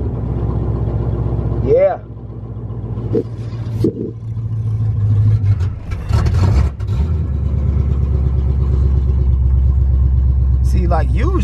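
An older car with a rough, ugly start idles and revs in a steady low rumble throughout, with a brief dip before catching again; a person says a short word over the engine.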